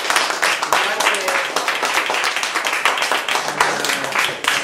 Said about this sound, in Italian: Direi un applauso a questo gruppo